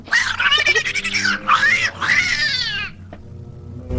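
A cat meows loudly several times in long, wavering, drawn-out cries close by, ending with a click and quiet background.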